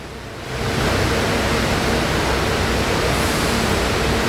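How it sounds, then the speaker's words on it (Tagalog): Heavy rain pours down in Pasay, Metro Manila, a steady broadband roar that swells in over the first half second and then holds loud and constant, with no voices. "lakas ng ulan."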